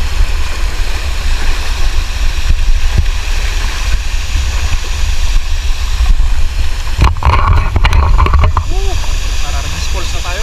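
Arbis Falls in Lagayan, Abra, gives a loud, steady rush of falling water and flowing river near a river crossing, with people talking over it.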